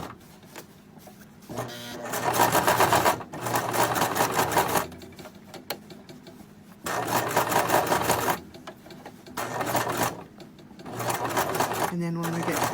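Sewing machine stitching a tight seam on a fabric glasses case, loud bursts of rapid mechanical stitching alternating with short pauses, with someone talking between runs.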